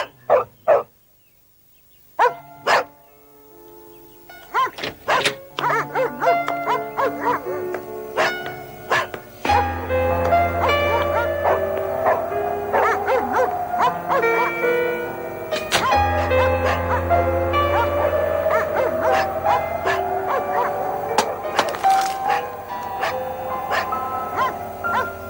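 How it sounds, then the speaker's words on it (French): Dogs inside a house barking as people enter the room, a run of sharp, repeated barks that builds into steady, dense barking over a continuous background sound, loud and close, with no talk. "Chaque fois qu'on entre dans cette pièce, ils aboient comme ça."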